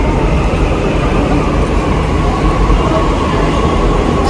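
A metro train rumbles past close by, a loud, steady roar that holds evenly for the whole stretch.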